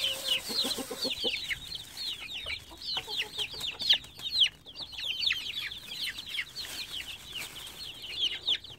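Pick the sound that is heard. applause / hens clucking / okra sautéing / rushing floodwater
hens clucking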